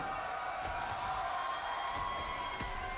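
A distant crowd at a Warriors watch party keeps up a continuous, muffled murmur of cheering and chanting.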